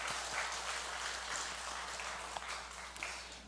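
Congregation in a church applauding in congratulation during a Sunday worship service, a soft, steady patter of many hands held at a distance, fairly faint and even throughout.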